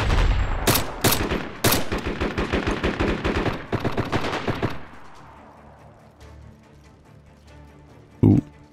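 Rapid automatic fire from the hip in the video game DayZ, a loud fast rhythmic burst of shots lasting several seconds, then fading to quiet with one last distant thump.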